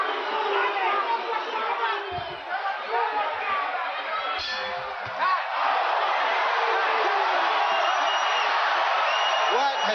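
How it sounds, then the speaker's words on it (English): A boxing crowd at a Mike Tyson title defense keeps up a dense, loud arena roar of booing and shouts for the whole stretch, with an announcer's voice running underneath. "you hear the crowd start to boo"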